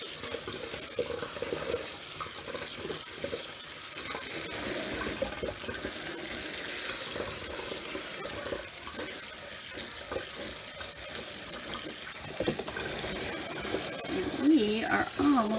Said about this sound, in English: just bring your pot over and drain it into your colander, and then do the same thing I'm doing right now.